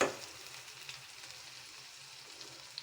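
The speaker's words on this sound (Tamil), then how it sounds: "அரைச்ச மசாலா சேர்த்தாச்சு. நல்லா எண்ணெயிலே வதங்கட்டும்." Ground masala paste fries in oil in a pan for a Tamil roasted-and-ground vathakuzhambu, giving a soft, steady sizzle with faint crackles and an occasional louder pop near the end, without talk.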